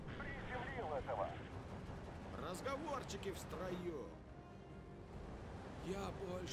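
Bombs exploding in the Steel Division 2 war strategy game: low rumbling booms and blasts rolling under a continuous dense game soundscape, with whistling aircraft-like sweeps overhead.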